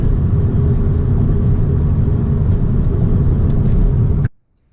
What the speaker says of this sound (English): And it makes all the cool turbo noises.